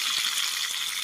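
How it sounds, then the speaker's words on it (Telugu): Tomatoes and masala fry in a pan for a stuffed eggplant masala curry, giving a steady, close, dense sizzle with faint stirring scrapes and no talk. "ఇంకా ఇవి కూడా మెత్తబడేంత వరకు అయితే కొంచెం ఫ్రై చేసేస్తున్నాను"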